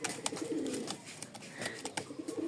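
Rajshahi Giribaz pigeons coo close by, a quick series of throaty rolling coos overlapping with soft wing and foot clatter, moderately loud throughout.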